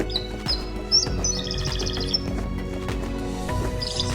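A canary sings a bright, rapid stream of high trills and chirps, close and clear, over a low steady background hum.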